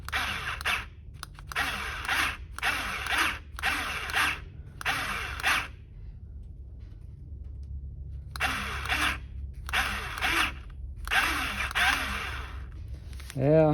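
A powered grease gun pumps grease into a Ford truck's stuck distribution brake valve, repeated short whirring bursts of the motor with brief pauses between them, close by over a low hum.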